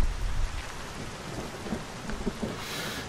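Steady rain hisses over a low, rumbling thunderstorm in Everybody's Gone to the Rapture, with a heavier thunder roll at the start and a continuous downpour throughout.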